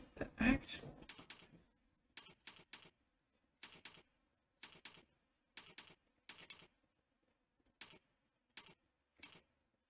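Bursts of typing on a computer keyboard during a typing practice drill, clustered clicky keystrokes in short groups separated by pauses, fairly close and clear, with a brief louder knock or handling noise at the start.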